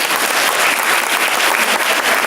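A theatre audience at a performance of Filumena Marturano bursts into applause, a loud, close, dense clatter of many hands that fills the short moment without pause.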